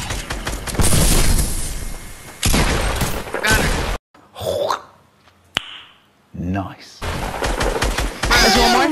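Dense bursts of rapid video game gunfire pour out in loud blocks, broken by short gaps where a voice and a cough or throat clearing come through before the shooting resumes.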